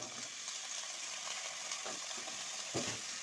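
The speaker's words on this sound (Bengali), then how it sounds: "এখন আমি আলুগুলো ভেজে নিচ্ছি" Potatoes sizzle and crackle steadily as they fry in hot oil, quiet and continuous, with occasional stirring sounds.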